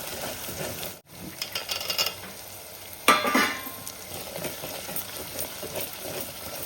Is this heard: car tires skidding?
no